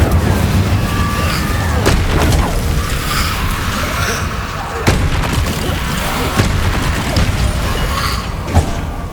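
Incendio fire spell cast repeatedly in Hogwarts Legacy, loud booming bursts and crackling impacts over busy mechanical game noise, with sharp hits recurring every couple of seconds and a voice talking at times.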